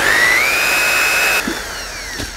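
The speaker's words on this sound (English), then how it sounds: "stir up the paint so it's nice and smooth, and for that one you will need a paint mixer" Paint mixer stirring chalk-based paint in a bucket, a steady high motor whine rising in pitch at start-up and then holding level, cutting off abruptly partway through with a few faint knocks after.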